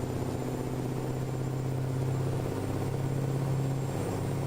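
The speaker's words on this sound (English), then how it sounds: "so I might be running a big horsepower Cummins too" A big-horsepower Cummins diesel truck engine in a trucking game hums as a steady, low, even drone, alone and unchanging throughout.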